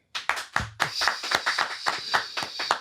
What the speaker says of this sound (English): Clap your hands for Nickelodeon.